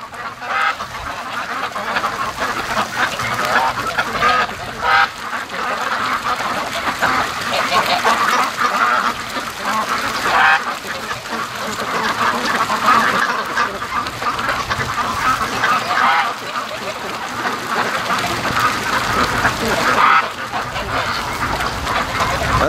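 Many domestic ducks near a lake keep up a busy, overlapping chorus of loud quacking, constant and close, with wind in the trees faintly beneath.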